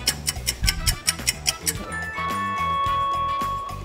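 Upliance.ai cooking machine signalling completion with a short series of bright, bell-like beeps that settle into a sustained tonal chime, close and clear, no talking.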